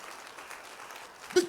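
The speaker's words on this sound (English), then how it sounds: "If you are clapping, clap well." A church congregation claps during a sermon, a steady wash of many hands held at a moderate level from start to finish, swelling briefly near the end.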